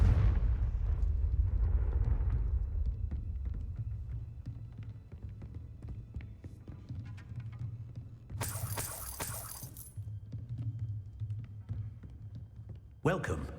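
Confringo, an explosive spell blast in Hogwarts Legacy, opens with a heavy low rumble that fades over several seconds. Bright crackling bursts follow later, with a spoken voice present.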